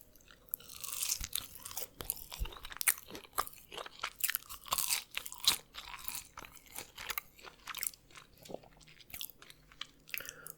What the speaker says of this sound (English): let's try some of these crinkle fries